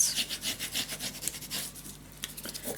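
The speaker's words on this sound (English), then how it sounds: "just burnish this down" Paper pressed onto a scrapbook mini album is burnished with a tool, giving quick close rasping rubs in a steady back-and-forth rhythm, with no talk.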